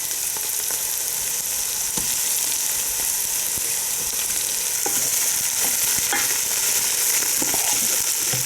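Flour-coated beef frying in hot oil for a beef stew, a dense steady sizzle with occasional pops and stirring clicks throughout, close and fairly loud, with no voices.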